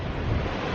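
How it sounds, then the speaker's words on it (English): Wind buffets the microphone in a dense, steady roar while surf rolls against a seaside cliff below, constant and close with no distinct breaks. "It's quite windy"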